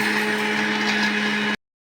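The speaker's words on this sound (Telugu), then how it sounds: "ఇప్పుడైతే ఇది మిక్సీ పట్టేస్తున్నాను." A mixer grinder blending chopped cake ingredients gives off a steady, loud electric whir with a constant motor hum, running evenly and close by until it cuts off abruptly, leaving silence.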